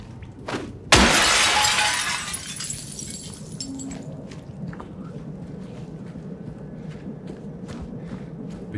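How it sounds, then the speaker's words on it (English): A window smashed in the video game Silent Hill 2 Remake, one sharp, loud burst of shattering glass with a scatter of falling shards, followed by quiet shuffling footsteps. "I'm gonna start smashing some windows then."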